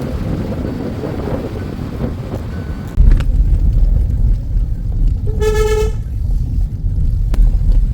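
A car horn sounds once, a short clear toot for about half a second, from a car on a narrow, winding hill road to Dawki in Meghalaya. Steady engine rumble and wind noise run under it.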